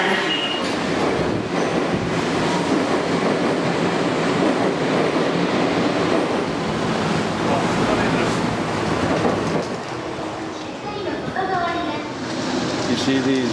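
A Tokyo Metro subway train rumbles through Hanzomon station, a loud, steady roar of wheels and rail noise that fills the whole stretch, with brief squeals and clatter near the end.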